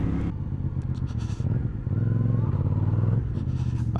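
A CF Moto 450CL-C motorcycle being ridden, its engine droning steadily at a fairly low level with a slight rise in revs midway, heard alone with no talking.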